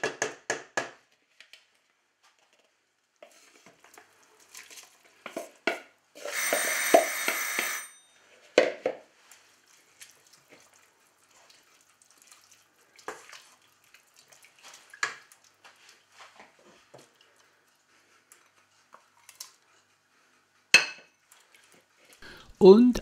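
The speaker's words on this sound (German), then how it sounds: "dann geben wir jetzt Sauerkraut hinzu" Sauerkraut tipped into a cooking pot, giving a brief wet clatter of utensil against pot midway, amid scattered quiet kitchen clinks and taps before and after.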